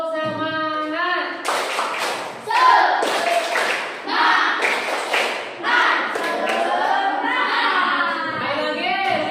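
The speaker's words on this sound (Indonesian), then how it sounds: "Tepuk semangat." A classroom group of pupils claps together in a rhythmic ice-breaker pattern, loud and close, mixed with chanting voices and a teacher speaking.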